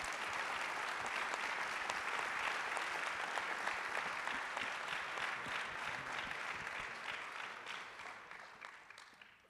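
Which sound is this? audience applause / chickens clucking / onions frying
audience applause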